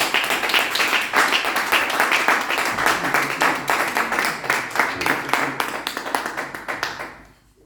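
A church congregation applauds to acclaim the Lord, loud sustained clapping from many hands that thins and fades toward the end.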